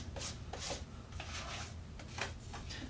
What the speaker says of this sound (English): So just mixing it up with a palette knife.